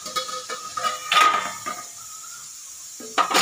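A lid comes off a cooking pot of light fish curry with vegetables on a switched-off gas stove: several close metallic clanks and scrapes, then a quieter pause, then a final clatter.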